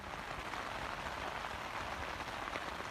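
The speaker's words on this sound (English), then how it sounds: "It is rain. It's been raining since about 1 o'clock." Rain falls steadily on a mountain hiking trail, a dense, even patter of drops on surfaces, soft and constant with no voices.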